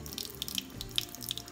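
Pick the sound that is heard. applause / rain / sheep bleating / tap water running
tap water running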